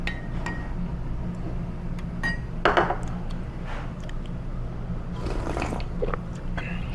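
Someone eats cold buckwheat noodles (mul-naengmyeon) at a noodle restaurant in Songnim-dong. Soft bites and chewing mix with sharp clinks of a bowl and utensils over a steady room hum.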